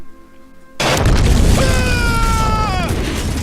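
In Metal Gear Solid 2, a bomb goes off with a sudden loud boom that rolls into a long rumbling roar, while falling electronic tones sweep down over it.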